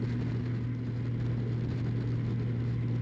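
A motorcycle engine holding around 2,500 RPM while riding, a steady low hum with constant wind and road noise, even and unbroken for the whole stretch, no voices.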